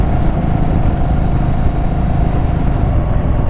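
A Yamaha Virago 1100 motorcycle rides fast along Derbyshire roads in England, a loud continuous engine roar mixed with heavy wind rush, close and unbroken throughout.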